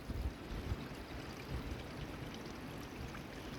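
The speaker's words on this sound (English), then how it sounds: "Creek in the mountains with nobody around." A mountain creek runs in a steady, unbroken rush of water, close and even throughout, with no voices.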